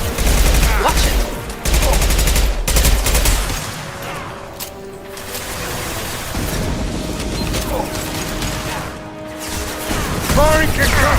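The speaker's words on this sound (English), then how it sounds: "Firing concussive shot!" A concussive shot is fired in Mass Effect during a loud firefight, with booming blasts and repeated gunfire. Combat voices sound over the fighting.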